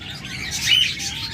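Budgerigars chirp in a bright, continuous twitter, moderately close and without talk, with a slightly louder burst partway through.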